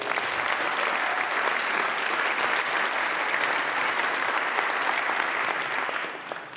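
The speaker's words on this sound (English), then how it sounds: "Please give a big clap for Dr. Godfrey." Audience applause for a special guest from Uganda, Dr. Godfrey, at an evening charity event: dense, steady clapping from a large crowd that holds evenly for about six seconds before starting to thin at the end.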